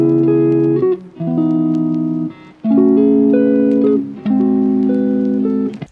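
A sampled guitar melody layered with a half-time copy, high-pass filtered and washed in Valhalla reverb, sustained chord phrases rising and falling in smooth repeated swells, clear and upfront with no voices.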